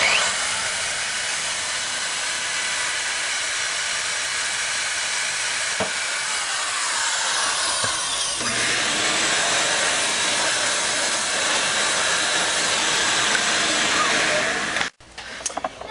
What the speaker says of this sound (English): once that next drill bit's in, you're just going to find your hole and do the same thing again